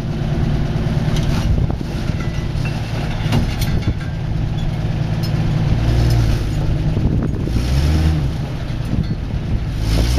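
An off-road vehicle crawls down a steep desert slope in Wadi Rum, its steady engine rumble mixed with heavy wind buffeting the microphone throughout, with no talking.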